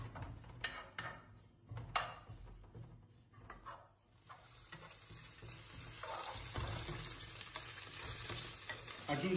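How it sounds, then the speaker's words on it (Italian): Spices heating in a pan, sizzling and crackling with intermittent stirring scrapes and clicks, the frying hiss swelling louder and steadier toward the end. "Riscaldiamo le spezie."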